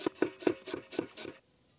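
Half an onion finely chopped with a knife on a cutting board for beef tartare with capers and tomato, giving about six quick, close, crisp blade strikes in a steady rhythm before stopping.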